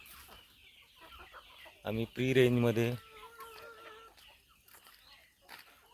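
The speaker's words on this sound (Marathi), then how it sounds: "गावरानी कोंबड्यांचं नियोजन करतो" Free-range desi country chickens cluck on a farm during feeding. A few loud, close bursts of clucking stand out over a quieter background, and someone speaks at the start.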